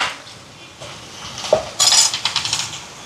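A ladle stirs food in a metal cooking pot after tomato sauce and salt go in, with a few scraping strokes and then a quick run of sharp, close metallic clinks against the pot sides.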